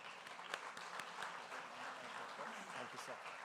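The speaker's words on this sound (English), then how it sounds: "please give them a huge round of applause" An audience applauds at the inauguration ceremony of a film festival's industry market, a steady spread of many hands clapping from a moderate distance, with some voices mixed in.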